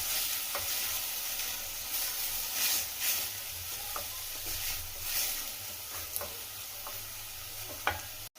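Onion and tomato are fried and stirred together in a pan for raw banana palya, giving a continuous loud sizzle and hiss with occasional soft scrapes of the spoon, close up and without speech.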